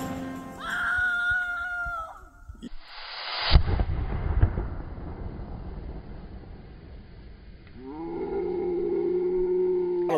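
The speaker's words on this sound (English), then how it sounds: "we are going to be making bombs with stump remover and powdered sugar" A homemade bomb of stump remover and powdered sugar goes off in a bottle with a sudden loud blast and a long roaring, crackling burn that fades out over several seconds, with no talking.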